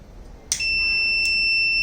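A fire sensor's alarm buzzer goes off after a sharp click, holding a loud, continuous high-pitched electronic tone to the end.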